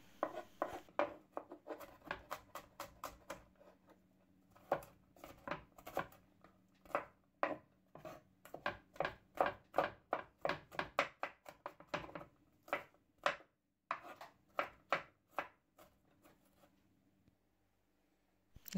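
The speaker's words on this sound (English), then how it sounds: "you can just cut them into big chunks" A knife chops garlic cloves into big chunks on a board for a creamy garlic mushroom sauce, giving a steady run of crisp, close, irregular thuds with a brief pause midway before the chopping stops.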